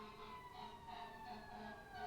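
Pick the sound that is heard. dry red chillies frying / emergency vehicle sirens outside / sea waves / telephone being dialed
emergency vehicle sirens outside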